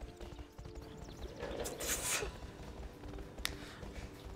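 Horse hooves clip-clopping in the horse riding game I Love Horses: Rider's Paradise on the Nintendo Wii, a soft, steady patter of steps with a brief louder burst midway, fairly faint under a background hum.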